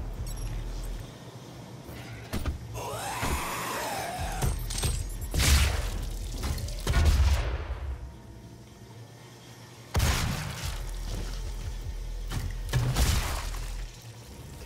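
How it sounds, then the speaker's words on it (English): Imp monsters in the video game Doom growl and screech amid loud in-game bursts and impacts, repeated snarls rising over a rumbling background, without any talk. "Okay, I'm guessing that was an imp."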